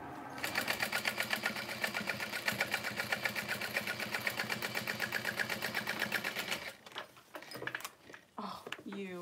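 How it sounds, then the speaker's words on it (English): Sewing machine top stitching on vinyl for a handbag, a fast, evenly pulsing needle rhythm running loud and close for several seconds before stopping, followed by a few clicks and handling sounds. "I am top stitching on the vinyl, folding my seam towards that direction."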